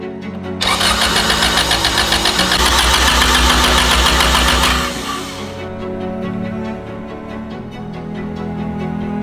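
A Honda CRX with a swapped-in B18 engine cranks loudly and steadily for several seconds with a fast rhythmic churn, then the starter cuts out and the engine settles into a rougher, quieter running sound.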